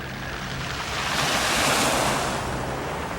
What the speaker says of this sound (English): The waves break on these little rocks.